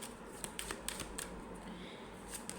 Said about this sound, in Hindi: वेट, अभी मैं कुछ और कार्ड्स निकालूंगी।